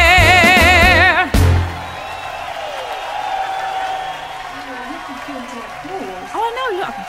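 Recorded applause from a built-in sound effect bursts out loudly at first, then fades to a softer crowd wash while a person talks over it.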